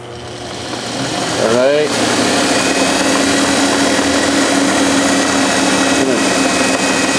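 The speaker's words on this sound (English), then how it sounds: "I'm going to start up the lathe." A metal lathe spins up with auto feed engaged, a rising whine settling into a loud, steady mechanical hum close by; someone speaks briefly near the start.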